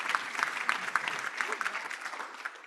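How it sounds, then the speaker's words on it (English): Steady applause from a Rotary Club audience, a dense patter of many hands clapping at moderate volume, continuing evenly throughout. "applaud that"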